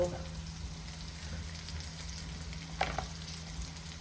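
Onions and curry leaves frying in a pan, a constant close sizzle with one brief clatter partway through, no voice heard.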